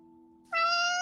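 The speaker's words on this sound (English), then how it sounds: "Sorry, it's my cat." A pet cat lets out a single loud, close meow that breaks in halfway through over a faint steady background hum, with no voices.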